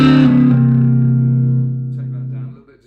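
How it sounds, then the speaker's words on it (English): An electric guitar through a 1959 Fender 5E3 tweed Deluxe amp with a little distortion rings out as one sustained, slightly dark chord that holds loud, then fades away over a few seconds. "a little bit of distortion there"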